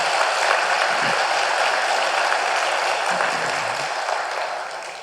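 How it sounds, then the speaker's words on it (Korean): A congregation at a Sunday church service applauds the choir, a steady, full wash of many hands clapping that holds evenly and tapers slightly at the end. "다시 한번 격려의 박수를 부탁합니다"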